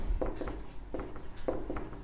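Pen or chalk writing strokes on paper during a Class 10 math lesson, a few short scratchy rubs in a loose rhythm, close and fairly quiet, with no talking.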